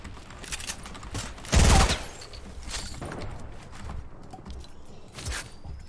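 Gunfire in a shooter video game: a loud, close burst of rapid shots near the start, followed by scattered lighter pops and footsteps moving through the scene.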